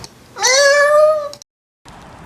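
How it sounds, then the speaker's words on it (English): A single drawn-out cat meow, clear and close, followed by a brief silence. "Fluffy, the cat you stole ahead of time, meows, causing your date to panic."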